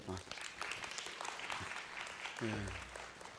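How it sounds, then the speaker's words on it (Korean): A church congregation claps steadily for a few seconds, with a voice speaking briefly over the applause near the start and end. "박수 한번 칩시다 우리"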